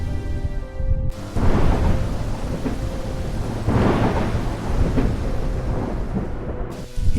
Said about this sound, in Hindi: तेज हवाएं चलने लगी, बिजलियां चमकने लगी। देखते ही देखते भयंकर तूफान आ गया।